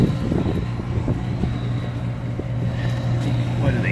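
Steady hum of a universal 825 RPM replacement condenser fan motor running slowly, a constant low drone with a few faint clicks and bumps, close by.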